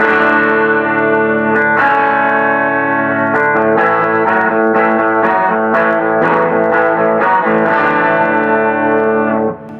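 Ringing open strings of a 12-string electric guitar shimmer through chorus, distortion and echo, strummed chords sustaining loudly and densely throughout.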